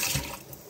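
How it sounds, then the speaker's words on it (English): Tap water gushes briefly from a kitchen faucet while an apple is rinsed under it, a short, close, steady splash with no one talking. "I'm gonna wash it in the water."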